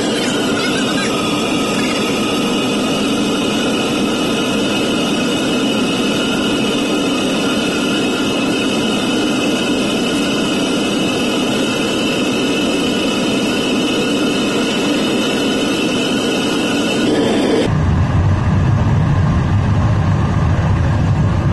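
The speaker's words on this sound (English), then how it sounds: "You can hear the jet engine sound that it's making" A loud, steady roar of a propane metal-smelting furnace burner and blower with a high whining tone, continuous for most of the clip before the tone drops away abruptly near the end.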